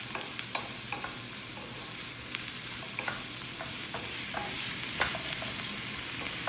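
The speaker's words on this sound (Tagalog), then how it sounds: "nilagyan ko siya ng konting oil at ngayon i-add ko na itong hiniwa kong onion" Sliced onion frying in a little oil in a pot, a steady close sizzle with intermittent scrapes and taps of a stirring utensil, no voices.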